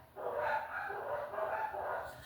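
Faint, distant dogs bark and yip continuously in the background, a muffled jumble of excited barking with no talk over it.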